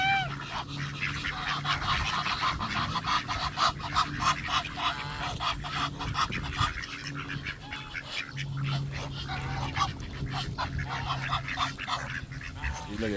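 Geese or ducks honk noisily while being fed outdoors, a dense, continuous clamor of overlapping loud calls close by for the whole stretch, with no talking.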